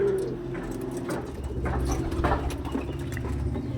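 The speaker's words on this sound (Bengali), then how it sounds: "একদম পায়ে পন নিয়ে কালো নখের পায়রা" Black-clawed pigeons with feathered feet coo in a low, steady murmur close by, over a constant background hum, with no voices.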